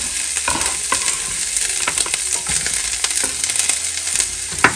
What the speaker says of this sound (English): when the oils get hot, everyone, I'm going to go ahead and put the string bean in